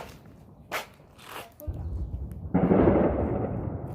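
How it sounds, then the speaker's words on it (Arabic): Heavy gunfire and explosions crack and rumble in a war zone near an Arab market in Sudan, with two sharp bursts early on and then a dense, sustained roar of distant and nearby firing. "صامين صوت الذخيرة تقيلة يعني غايته بس ربنا يمرقنا بالسلامة يعني كل الاتجاهات ذخيرة شغالة"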